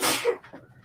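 A single sneeze from someone in the background, short and fairly loud, followed by a faint breathy trail.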